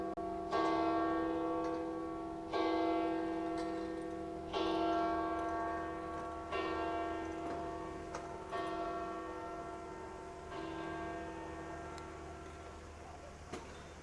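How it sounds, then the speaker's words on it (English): Church bells ring in a slow, steady sequence, about seven resonant strikes spaced roughly two seconds apart, each leaving a long ringing decay that overlaps the next, heard alone at moderate distance. "Here, the bells are ringing."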